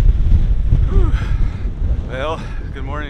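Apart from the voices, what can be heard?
strong wind blowing on the microphone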